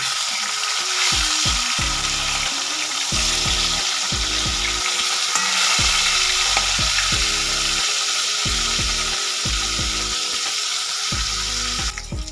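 Flipped sole fish keep frying in hot oil in a kadai, the second side hissing and crackling loudly and continuously at close range, with brief stirring scrapes mixed in.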